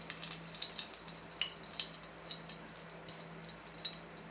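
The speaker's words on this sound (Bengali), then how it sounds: "তেলের মধ্যে শুকনো লঙ্কা দিলাম" Dried red chillies sizzle in hot oil in a pan, giving a steady, soft crackle with small pops and spits throughout, for a homemade mango pickle.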